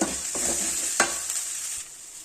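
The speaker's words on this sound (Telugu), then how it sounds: "కారము ఉప్పు పసుపు ధనియాల పొడి గరం మసాలా ఇవన్నీ వేసేసి బాగా ఫ్రై చేద్దామండి" Chili powder, salt, turmeric, coriander powder and garam masala fry in a pan for a dried fish and drumstick curry. A bright, steady sizzle runs throughout, with a few stirring scrapes and clinks.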